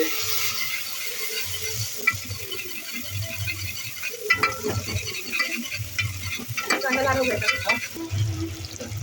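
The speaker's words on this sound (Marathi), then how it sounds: "आणि आता लसूण आणि आता ढवळून घेणार" Garlic frying in a pan for a fasting-day meal, with a spoon repeatedly stirring and scraping through it in uneven bursts over a steady sizzle, close and moderately loud.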